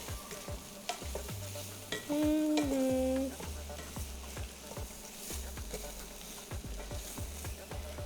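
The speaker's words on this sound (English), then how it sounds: "I'm gonna saute these for about 5 minutes in that skillet." Chicken pieces coated in oil sauteing in a pot, with steady sizzling and repeated scraping stirs of a utensil against the pan, close and clear, a brief tonal squeak partway through.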